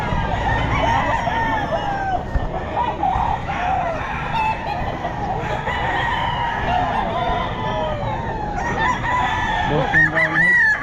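A Boston Roundhead rooster crows repeatedly at a busy pet market in Bocaue, loud and near, with clucking fowl and crowd murmur underneath throughout.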